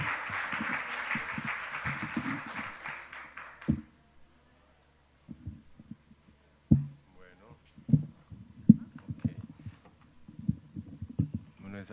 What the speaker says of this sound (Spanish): Démosle más bien una fuerte bienvenida, un fortísimo aplauso a el Magíster Anderson Henao Orozco.